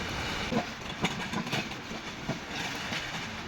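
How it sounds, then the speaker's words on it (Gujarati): Steady rumbling hiss of a Rajdhani train moving along the rails, with faint rhythmic clacks and thumps throughout, no voices. "રાજધાની આવી રહી છે, એરપોર્ટમાં રેલગાડી આવી"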